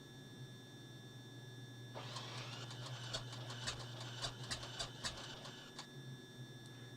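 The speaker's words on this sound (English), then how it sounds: "we're going to hit the ignition now" Carenado CT210 piston aircraft engine being started in a flight simulator: a rapid clattering ignition and cranking burst begins partway in, rattling with uneven sharp pulses over a steady low hum.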